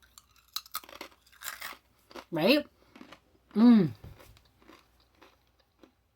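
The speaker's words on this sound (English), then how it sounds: "I just took a really small piece because I want you guys to hear the crunch" A small piece of crunchy snack is bitten and chewed up close, giving short, crisp crunches in quick bursts, with a person briefly talking between them.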